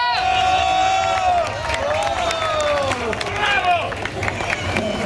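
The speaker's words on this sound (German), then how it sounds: "ein kleiner, großer Applaus für unseren Kaiser" A crowd claps and cheers for the emperor during a carnival-style imperial wedding parade, with loud brass music and voices carrying over the applause throughout.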